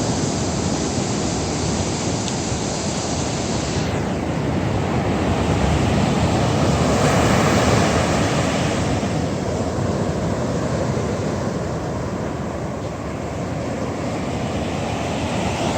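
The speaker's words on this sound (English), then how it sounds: "enjoy some of the therapeutic sounds of the ocean" Ocean surf rolls onto a secluded cliffside beach in Hawaii in a constant, broad roar, swelling gently midway, with wind-like hiss and no voices.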